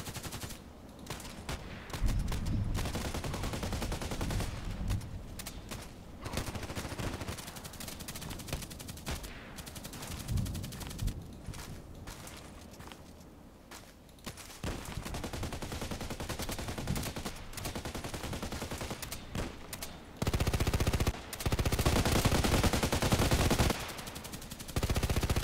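Weapon fire in a sniper video game, with loud, dense bursts of gunshots and rapid automatic volleys running almost continuously, broken only by a few short pauses.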